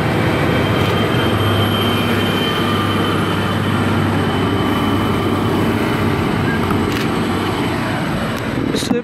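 At Burradoo station a passenger train rumbles steadily and loudly nearby as it departs, a continuous heavy roar of wheels and motors with faint squeals and clanks.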